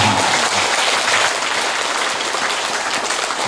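Audience applause fills a Buddhist dharma service marking a 500th anniversary gathering, a dense, steady clapping from a sizable crowd that stays even and sustained throughout without any voices.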